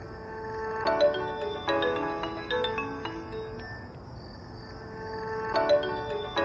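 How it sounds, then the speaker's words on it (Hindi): A phone ringtone trills in repeated bursts of tonal notes, a pause in the middle before the ringing resumes, moderately loud and alone with no talking. "आप फोन क्यों नहीं उठा रहे हैं? Please answer your phone."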